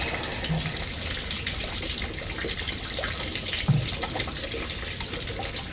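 Antifreeze gushing steadily out of a diesel tractor's engine block, a continuous close splashing pour with a few small knocks, no speech.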